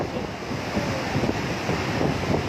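Heavy water rushing out of dam gates at about 22,000 cusecs, a continuous broad roar like surf with wind buffeting the microphone, steady and loud with no talk.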